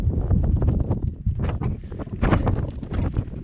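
Strong gusty wind on the Greek island of Karpathos, near the sea, buffets the microphone in uneven, rumbling bursts, loud and close throughout with no other sounds standing out.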